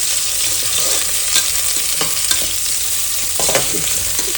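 Onions frying in a pan for a country chicken curry, a loud, close, continuous sizzle with a steady hiss and intermittent scraping of a stirring spoon, with no talking.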